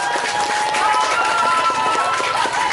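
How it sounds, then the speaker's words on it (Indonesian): A crowd at a school arts performance claps and cheers loudly and continuously, a dense wash of applause with a steady tonal hum running underneath. "mari kita beri tepuk tangan yang meriah."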